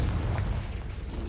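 A Confringo explosive spell blast in Hogwarts Legacy, a short, dense, booming burst with a low rumble.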